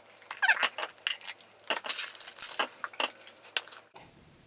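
Jar of Brazil nut body butter lotion being opened up close, with a run of small crinkling, squeaking and rubbing handling noises from the lid and packaging, ending in quiet.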